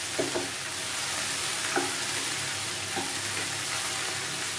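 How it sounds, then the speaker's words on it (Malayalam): Okra with a pinch of turmeric powder being stirred in a hot pan, a steady sizzle under a few soft spatula scrapes, close and fairly quiet throughout. "നന്നായിട്ട് മിക്സ് ചെയ്തെടുക്കാം"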